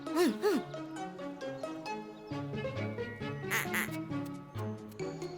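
Repeated nasal duck quacks sound close by over a busy, music-like background, with several quick calls clustered in bursts.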